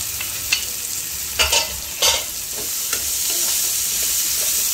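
Spices get stirred into vegetables in a frying pan while leftover rice is cooked, with a continuous sizzle and a few distinct scrapes and clinks of a spoon against the pan, close and fairly loud.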